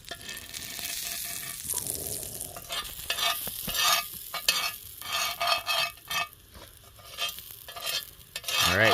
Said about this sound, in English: throw a nice piece of butter. Wait, gotta do a sizzle check.